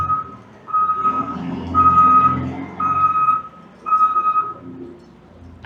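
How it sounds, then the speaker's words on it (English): A bulldozer on a downtown McAllen street sounds its reversing alarm, four loud, evenly spaced electronic beeps over a low engine rumble, close by and with no speech. "bulldozer"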